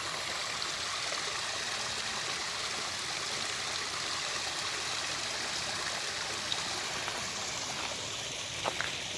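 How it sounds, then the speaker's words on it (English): A waterfall in a rock garden beside Lake Harriet gives off a continuous broad rushing wash of water, steady and moderately close, with no voices over it. "I'll try to get closer to the waterfall here."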